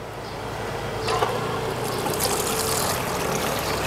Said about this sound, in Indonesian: posisi 1 kran dibuka yang 1 inci ya